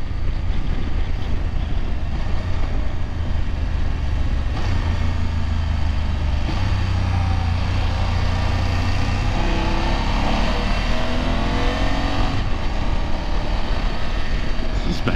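A European motorcycle engine drones continuously and fairly loudly throughout, its pitch rising and falling as it is ridden and revved, heard as a steady mechanical roar without speech.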